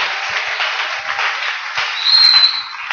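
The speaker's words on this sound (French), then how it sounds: "Applaudissons fort." Congregation applauding during a church service, a steady dense wash of clapping throughout that swells slightly toward the end, with no talking over it.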